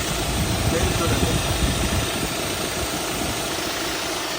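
A Hyundai Creta SX engine idles with a steady low rumble and faint rattling vibration, heard close up with a constant, even level throughout.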